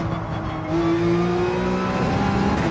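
A race car engine in Gran Turismo 7 on Dragon Trail drones steadily, then rises in pitch and loudness as it accelerates, with a sustained tonal whine throughout.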